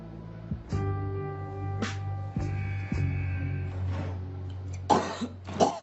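Two short coughs near the end, sounding close, over a steady low hum and faint background tones.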